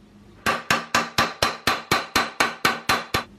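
A hammer strikes MIG welds flat on a car body panel eleven times in a steady, even rhythm. The metallic blows are loud and close, with no voices.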